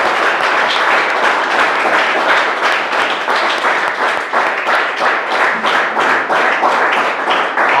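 Congregation applauding a servant brother at a church service, dense steady clapping from many hands sustained throughout at a fairly loud level.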